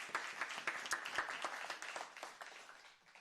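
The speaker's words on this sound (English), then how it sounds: "Round of applause for Chomps." Small press-conference audience applauding at a Monster Energy AMA Supercross event in Cleveland, with sharp individual claps in an uneven rhythm that slowly thin out and fade toward the end.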